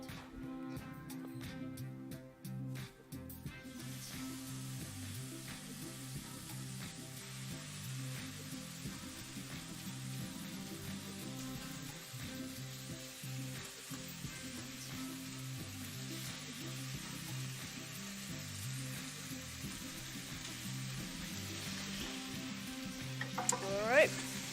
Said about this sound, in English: I love the sound of bacon sizzling at whatever time of the day.